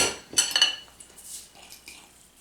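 A utensil scrapes and clinks against a bowl while egg and salt are stirred into a lasagna filling, a brief cluster of bright clinks followed by softer intermittent scraping that fades out.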